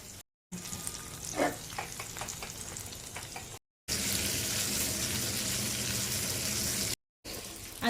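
Halwa fish fries in a pan with a steady, close sizzle that runs continuously across the clip, interrupted by brief silent gaps, with soft occasional clinks over the hiss.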